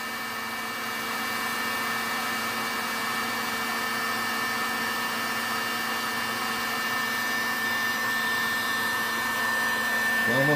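Heater blowing hot air to dry a floral motif: a steady, close whirring blower with a constant whine, running alone and slightly louder toward the end.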